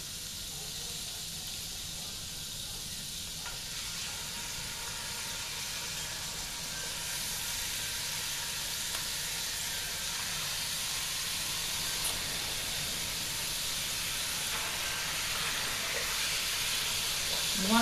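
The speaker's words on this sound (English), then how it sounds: "we're going to put our pork chops back in" Pork chops sizzle steadily in a pan after sauteed onions were cooked and removed, a constant close hiss and crackle holding even throughout with no talk.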